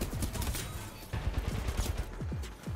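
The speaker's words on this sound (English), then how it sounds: "That's a smart pistol." Rapid smart pistol gunfire in an Apex Legends match, a dense volley of quick snapping shots with sharp transients, close and loud over game noise.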